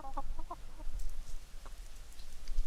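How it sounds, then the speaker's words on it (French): Pet hens giving a few short, close clucks in quick bursts early on, then quieter scattered sounds over a steady low background hum. "Qui sont... Mes poules."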